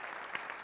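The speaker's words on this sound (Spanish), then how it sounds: "Y se dan todos un aplauso porque todos ganaron." Brief, faint burst of audience applause at a Latin American connectivity talk, soft scattered clapping with no voices.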